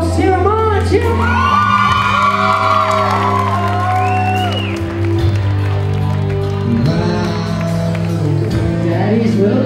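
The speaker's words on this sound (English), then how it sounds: "Cheer them on!" Wedding guests at a villa reception cheer, whoop and shout together in a loud, sustained crowd roar, with scattered applause and high excited voices over steady background music throughout.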